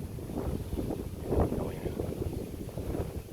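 Strong wind gusts on a bypass road near a mountain, a loud rumbling buffet on the microphone that swells and eases, peaking briefly midway, with no talk.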